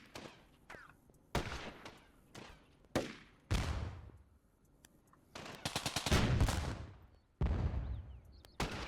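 Gun bursts from a crewed weapon in the World War II strategy game Theatre of War 2, set at the Kasserine Pass in Africa, 1943: several sharp, loud volleys separated by pauses, with a long rattling burst near the middle.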